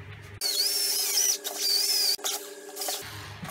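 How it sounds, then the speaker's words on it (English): A small power drill whines in two bursts with a high, wavering pitch, stopping briefly between them, close up and fairly loud. "So I'll drill a hole for that."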